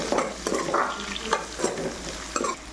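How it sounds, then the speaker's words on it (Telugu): Onions fry in hot oil with curry leaves for poha, a close crackling sizzle punctuated by several quick scraping stirs. "ఇలా కరివేపాకు కూడా వేగిన తర్వాత ఉల్లిపాయ వేసుకోండి"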